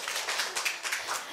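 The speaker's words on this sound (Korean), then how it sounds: "박수 한 번만 더 주세요" A school auditorium crowd at a middle school speech festival claps briefly, a short burst of dense, moderately distant hand claps.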